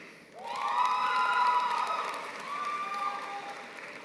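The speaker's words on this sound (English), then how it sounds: "Thunderous applause." A crowd at a university convocation cheers and applauds new graduates, with a swell of loud clapping and rising whoops and shouts, sustained then gradually easing.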